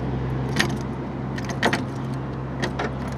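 Keys jangle in a few short metallic bursts over a steady low engine-like hum from a Toyota Corolla, close by, with no one speaking.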